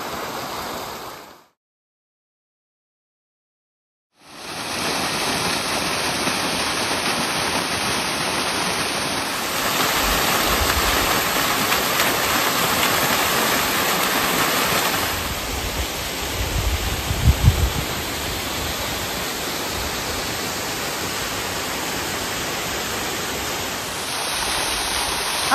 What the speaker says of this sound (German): Hier plätschert das Wasser vom See herab und das Moos schimmert in der Morgensonne.